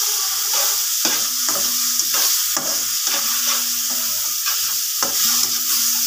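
Vegetable macaroni with carrots sizzles loudly in a hot pan while a spatula stirs it in repeated scraping strokes, roughly one each half second.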